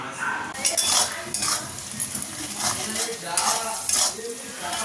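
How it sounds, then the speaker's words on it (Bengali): Chicken coated in ground spices fries in a pan while a spatula stirs it, producing a continuous sizzle with repeated scraping and clinking strokes against the metal, and no talking. "চিকেনটা আগে করে নিচ্ছি"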